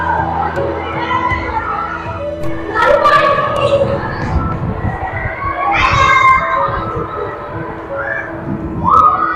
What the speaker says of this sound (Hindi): यहाँ पर आवाज़ और बच्चों का शोर भी बहुत ज़्यादा है, उसकी वजह से आवाज़ गूंज बहुत ज़्यादा रही है